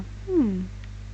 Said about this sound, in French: D'où il sort ce chat?